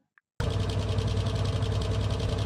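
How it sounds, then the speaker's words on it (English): A steady engine drone with a low rumbling hum from a Tower Unite sound emitter starts abruptly after a short silence and runs evenly to the end, close and fairly loud. "Let me go turn on the engine sound."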